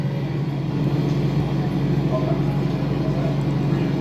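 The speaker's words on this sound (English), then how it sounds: "that's a tow truck." Tow truck driving past on a residential street, a steady low engine rumble and road noise at moderate distance, with people talking over it.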